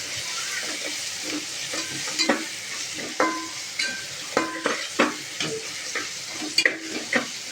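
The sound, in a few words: sautéing vegetables in a pan for vegetable biryani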